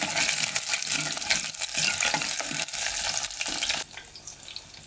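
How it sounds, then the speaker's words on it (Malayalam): Loud scraping and sizzling as ginger and curry leaves are stirred in a hot pan with garlic for an anchovy curry, a busy rustle of utensil strokes that drops to a quieter hiss near the end. No one talks. "ചെറിയ രണ്ട് കഷ്ണം ഇഞ്ചി ഒരൽപ്പം കറിവേപ്പില നല്ലതുപോലെ ഒന്ന് ഇളക്കിയെടുക്കാം"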